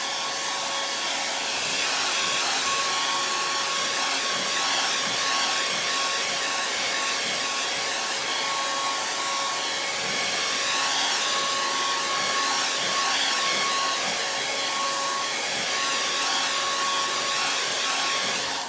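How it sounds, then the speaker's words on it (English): A hair dryer blowing steadily on wet acrylic paint on a painted door hanger, a constant loud whooshing whine with a fixed motor tone that runs unbroken for the whole stretch, with no talking. "I do want to go ahead and blow dry this right here."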